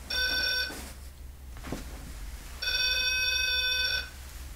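An electronic pod device in a hotel rings with a bright, tonal electronic chirp in two bursts separated by a pause, over a low background hum with a faint thump between them.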